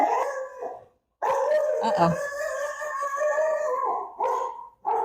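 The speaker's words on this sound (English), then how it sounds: "So that's our dogs." Rescue dogs howling and barking together, long wavering howls broken by a brief pause, with yips mixed in, close and loud, and a person speaking briefly.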